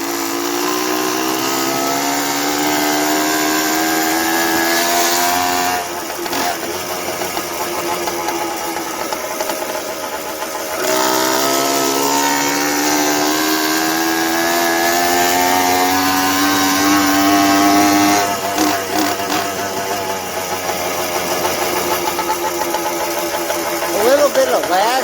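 A 2-stroke motorized bicycle engine running on E85 buzzes close and loud, revving up and down with rising and falling pitch, and people talk over it now and then.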